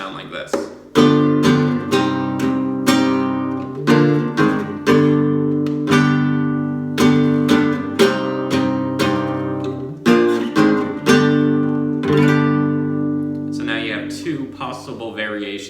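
Flamenco guitar plays Fandangos de Huelva chord voicings in compás. Sharp rasgueado-like strums and chord hits come in a driving, uneven rhythm, close and continuous for about fifteen seconds, with no talking.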